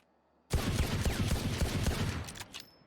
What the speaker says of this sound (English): So that is the quickest I can fire with this gun.